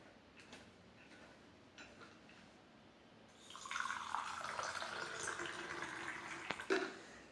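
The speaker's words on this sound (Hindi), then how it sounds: "दूसरे शरीर के अंदर हम कैंगन वाटर डालेंगे जी" Kangen water pours into a container, a steady trickling splash that starts partway through after a quieter stretch of faint clicks, close by with no speech.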